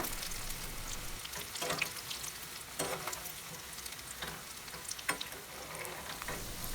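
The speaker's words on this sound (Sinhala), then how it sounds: "තෙල් රත් වෙනකොට අල ටික මෙන්න මේ විදිහට ටික ටික දාලා දෙපැත්ත පෙරලමින් බැද ගන්න" Potato pieces fry in hot oil, being turned over on both sides, giving a continuous close sizzle punctuated by a few louder spatters and stirring scrapes, with no one talking.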